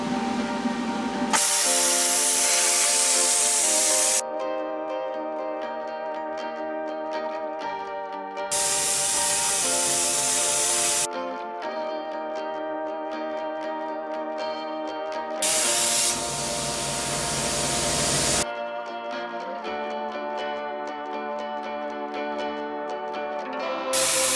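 A cutting tool is slicing through 3/4 inch steel plate clamped to a table, giving a loud, sustained hissing, spraying roar that cycles through alternating intense bursts and steadier tonal whine segments with no talking.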